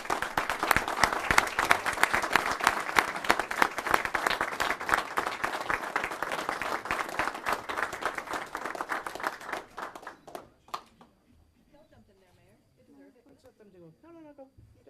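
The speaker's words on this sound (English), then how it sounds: "I just want to applaud you gentlemen and give you thanks" Dense applause from an audience at a village board of trustees meeting fills about ten seconds, loud and steady, then stops abruptly, leaving faint talk and room noise.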